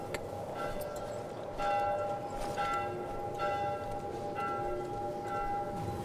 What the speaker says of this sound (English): Oh, he hears the bell too, so he's close.